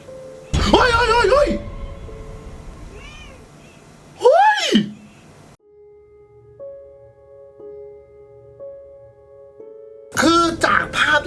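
A cat meowing up close, several short plaintive calls spread out with quiet gaps between them, alongside bursts of human vocal sound and a steady faint tone in the middle.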